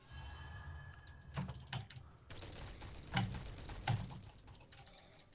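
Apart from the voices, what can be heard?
computer keyboard typing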